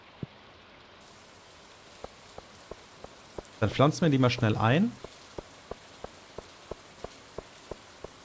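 Steady rain in Stardew Valley patters as a soft continuous hiss with regular droplet ticks, while someone speaks German briefly over it.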